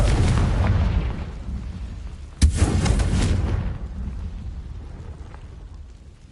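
A Confringo explosive spell detonates in a Hogwarts video game with one sharp, loud blast partway through, its rumble fading over the following seconds above a steady low background roar.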